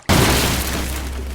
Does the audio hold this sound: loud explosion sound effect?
yes